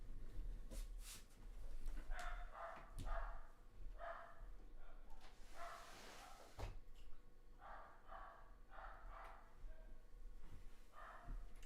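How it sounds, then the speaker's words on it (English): A dog barks in the background in repeated short bursts, some in quick pairs and triplets, fairly faint and muffled under a steady low rumble, with a sharp thump partway through. "Apologize for the dog in the background"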